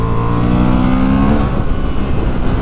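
Honda Hornet 750 motorcycle pulling hard under acceleration, a steady loud engine drone with harmonic tones that rise and then break into broadband roar and wind rush.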